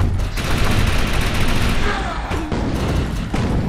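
Rapid rifle gunfire in the Defiance shooter game, a loud dense burst of shots rattling almost continuously for several seconds with little letup.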